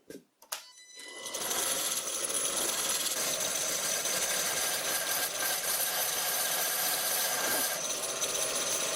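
An old wood lathe turning a wooden carver's mallet, a steady loud whirring hiss of the spinning work and cutting tool that starts after a couple of brief knocks and runs on continuously.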